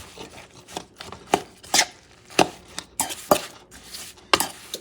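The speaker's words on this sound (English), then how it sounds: "It's time to mix things up until they get a nice" Coconut macaroon ingredients mixed by hand in a bowl, giving irregular scraping and tapping knocks of a utensil against the bowl, close and moderately loud, with no voices.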